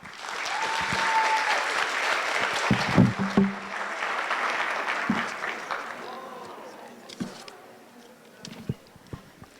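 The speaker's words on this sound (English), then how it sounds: "Let's give them a warm round of applause." Sustained applause from a crowd at a school Black History Month assembly, steady clapping that fills the room and gradually thins out toward the end.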